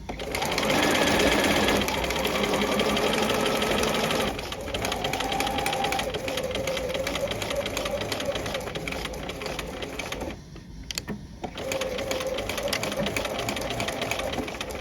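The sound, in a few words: sewing machine sewing a welt pocket seam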